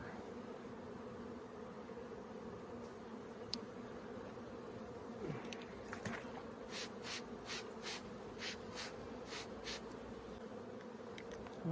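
Honey bees buzzing steadily around hives in a backyard apiary, a soft continuous drone with a series of sharp regular ticks or taps partway through.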